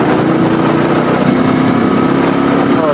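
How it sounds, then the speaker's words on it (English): Royal Enfield Classic 350 motorcycle engine running steadily in second gear at about 40 km/h, a continuous loud thrum with wind noise that holds constant throughout, no distinct speech. "I am riding in second gear at 40."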